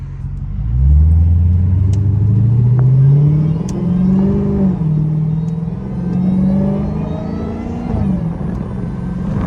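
A Dodge Hellcat SRT engine roars loud and close as it revs and pulls through rising, wavering sweeps, the deep mechanical growl carrying for about nine seconds with no talking over it.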